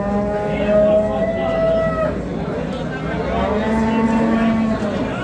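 Cows with calves bellow at the Friday livestock market in Pastdargom, Samarkand, with two long, loud moos close by over a busy background murmur of the crowd.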